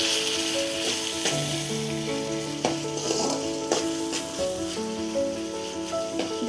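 Chilli chicken with a squeeze of lemon sautéing in a pan, a constant close sizzle with intermittent stirring scrapes and clinks, no voices.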